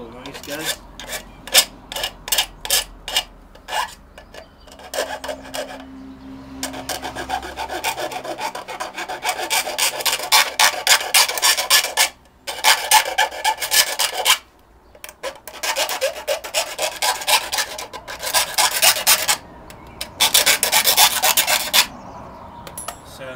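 Loud, gritty filing strokes scrape against the metal edges of a homemade hobo stove, starting as short separate rasps and settling into longer continuous runs with brief pauses between them.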